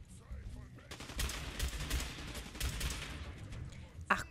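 Loud bursts of rapid gunfire in Fallout 4, clustered shots cracking over a busy game soundscape, with a sharp final report near the end and a player's voice partly underneath.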